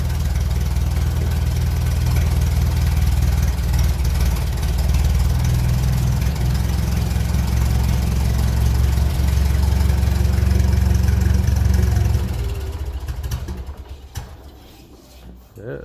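1957 Ferguson 35 tractor with a TVO engine, running unevenly with a possible dirty carburettor jet, a loud steady rumble close by that dies away near the end.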